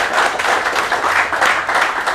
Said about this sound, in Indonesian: sekali lagi tepuk tangan nih buat Mas Pandu